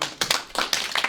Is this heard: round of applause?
yes